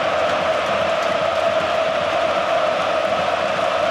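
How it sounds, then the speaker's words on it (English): A stadium crowd roars continuously at a Croatia v England football match, a dense loud wash of cheering and chanting without clear breaks. "He's got the crowd going now"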